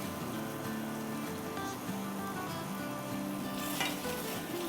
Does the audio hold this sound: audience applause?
no